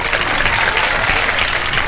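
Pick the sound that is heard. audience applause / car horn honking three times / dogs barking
audience applause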